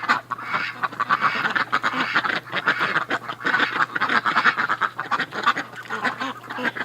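Ducks quack in a dense, continuous chorus of overlapping calls, busy and fairly close, gathered at a winter drinking spot near a house, with no talk over them.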